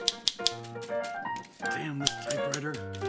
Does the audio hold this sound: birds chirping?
no